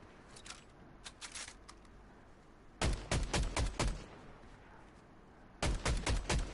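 Gunshots in the Fortnite video game, heard as sharp rapid bursts: a faint distant string of shots first, then two loud, close volleys of quick fire.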